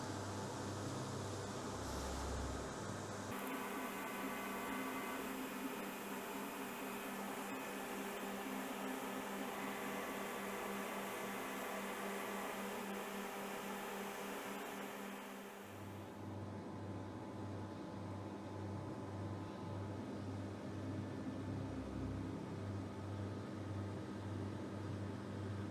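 A Daja S6 5W fiber laser engraves a carbide milling cutter, giving a steady mechanical hum and fan drone whose tone shifts partway through before settling again, with no talking.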